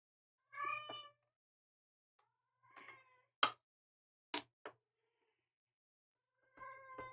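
A cat meows several times close up, with separate drawn-out calls and short sharp sounds spaced by silence in a quiet indoor room.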